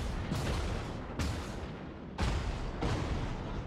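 Naval gunfire in the World of Warships game: heavy broadside salvos boom out in loud bursts, each followed by a rumbling roll, with about four volleys overlapping in close succession and no talk.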